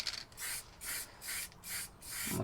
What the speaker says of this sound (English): just going to spray this real lightly, just the corners